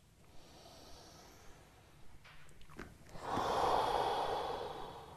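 Heavy breathing from someone holding a hip flexibility stretch with heels drawn toward the groin: quiet, steady breaths, then a loud, long exhale toward the end.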